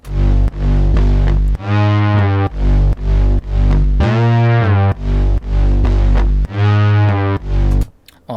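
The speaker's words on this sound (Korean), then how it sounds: "자, 그 다음에 베이스 사운드." A loud, buzzy synth bass plays a punchy rhythmic line of short and held low notes, up front and alone.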